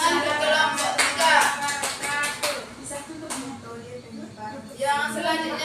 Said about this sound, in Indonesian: Kasih tepuk tangan ke kelompok 3.